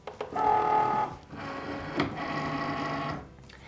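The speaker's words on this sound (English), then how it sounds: "what we can go ahead and do is load it into our machine" A Cricut cutting machine whirs as it loads a cutting mat with freezer paper, a motorized buzzing in two bursts separated by a brief pause, close and moderately loud.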